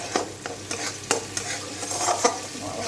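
Spices fry in hot oil in a pan for a light fish curry, a steady close sizzle broken by a few sharp scraping stirs, with no voices.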